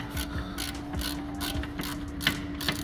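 A 10mm socket on a ratchet with an extension loosens a bolt on a 2008 Toyota Yaris during rear axle work, giving a rapid, even run of close metallic clicks.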